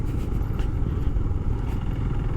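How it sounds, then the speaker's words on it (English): A BS6 Royal Enfield Himalayan motorcycle rides off-road on trails in third gear at under 3000 rpm, a steady low engine thrum mixed with wind and gravel rumble, close and continuous. "The engine RPM is under 3000, the speed is close to 40 or a little under 40, and the bike is smooth, it is effortless."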